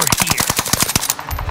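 Rapid gunfire in the video game Warzone, a fast burst of sharp, loud, evenly spaced shots lasting about a second, then a short quieter tail with no talk.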